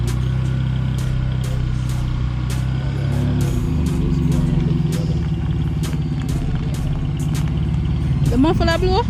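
Loud, rough engine of a 2011 Nissan Teana running with a blown muffler, a steady rumbling drone with clattering ticks, close by, with a voice speaking over it.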